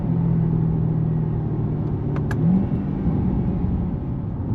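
A Chevrolet Corvette Stingray Z51 with an eight-speed dual-clutch transmission and rear-wheel drive accelerates with a loud, close, rumbling engine drone. The engine note climbs steadily, then makes a quick shift and settles into a lower pitch.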